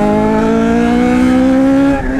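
A loud, close Yamaha XJ6 motorcycle engine holds a high, sustained revving tone, then its pitch shifts and drops off near the end.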